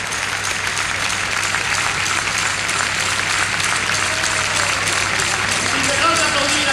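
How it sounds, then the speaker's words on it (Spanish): A crowd gives loud, sustained applause for the rondalla at a jota performance during the Fiestas del Pilar in Zaragoza, with dense clapping throughout and faint voices within it. "les quería pedir un fuerte aplauso para nuestra rondalla"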